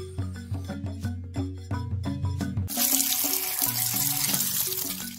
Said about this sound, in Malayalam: നമ്മള് ഊരിക്ക നമുക്ക് വൃത്തിയാക്കി എടുക്കാം.